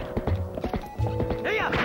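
Horse hooves clip-clopping in The Legend of Zelda: Twilight Princess, a quick run of close, distinct hoof knocks, followed by a brief whinny near the end.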